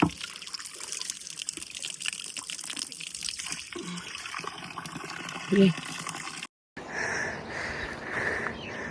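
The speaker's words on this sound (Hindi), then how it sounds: "पानी आता है साफ" Clean water from a village spring flows steadily, a close trickling and splashing under a broad wash of outdoor noise, with a brief break near the end before the flow resumes.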